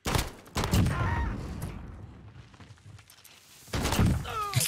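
Bursts of video game gunfire crackle in rapid, dense volleys, loud at the start and again near the end with a quieter stretch between.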